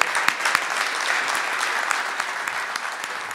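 Audience applause, a dense steady wash of many hands clapping at close range, evenly loud from start to finish with no voices.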